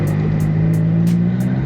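A loud, tuned Audi S3 8L with the 210 hp APY engine idles from inside the cabin, a steady deep droning hum with faint rhythmic clicking and no talking.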